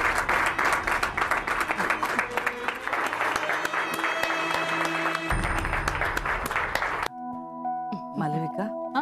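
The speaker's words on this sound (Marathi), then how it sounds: "तेव्हा पुन्हा एकदा टाळ्या होऊन जाऊ दे" A studio audience at a Marathi TV serial event applauds a mother and her daughters with a dense wash of clapping, then the applause cuts off and a tonal musical sting follows.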